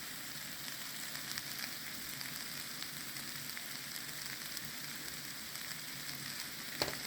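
Zucchini sautés in a pan with garlic, giving a continuous soft sizzle and crackle with faint scattered pops, steady throughout and heard alone.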